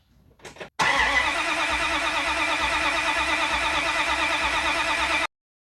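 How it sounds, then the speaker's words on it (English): A small-block V8 swapped into a Dodge Dakota cranks on the starter with a dry fuel line, giving one steady, loud, close whirring drone for about four and a half seconds that stops abruptly without the engine catching. "So we're going to crank it for a bit longer and see if we can get it to prime."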